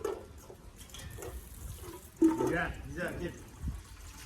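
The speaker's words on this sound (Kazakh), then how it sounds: "Енді ыдысына су құямыз" Water splashes into a German Shepherd's bowl in a short burst, with a person talking close by throughout.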